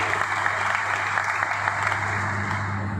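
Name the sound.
audience applause at sugar mill workshop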